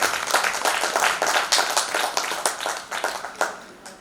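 An audience at a Rotary Foundation recognition event claps in a brisk round, individual claps standing out as the applause gradually thins toward the end.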